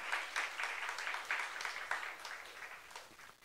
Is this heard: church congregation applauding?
yes